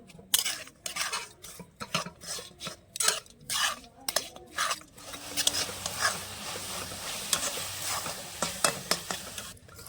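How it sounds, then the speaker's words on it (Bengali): Coconut and patali jaggery filling is stirred in a pan, with rhythmic spoon scrapes and knocks against the metal over a low sizzle, close and alone. "এবার নেড়ে চেড়ে আঠালো একটা পুর তৈরি করে নেব"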